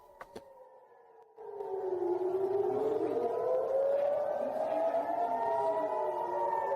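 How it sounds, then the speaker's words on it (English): Air raid sirens wailing in Israel during a missile attack, a sustained rising and falling tone that starts abruptly after a couple of faint clicks and holds loud and steady, with layered distant sirens blending together and no talking. "It's a real quiet video of all those freaking sirens going off."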